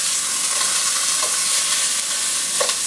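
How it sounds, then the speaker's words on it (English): Oxtail meat sears in a hot pot, giving a steady, dense sizzle and hiss that runs unbroken throughout, with a couple of faint stirring clinks. "The main thing I'm doing right now, just searing it off to give some nice flavor"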